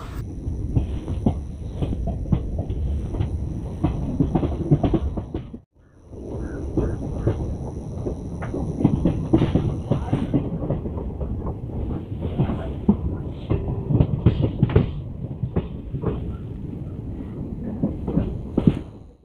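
The Janta Express passenger train rolls along the railway track toward Raebareli, heard from on board as a steady, loud rumble with rhythmic clickety-clack from the wheels that briefly drops out before resuming.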